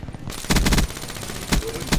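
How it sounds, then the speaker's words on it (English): A sentry gun firing in a video game, short rattling bursts of automatic fire in quick succession, loud and close, with brief gaps between volleys. "Another sentry gun."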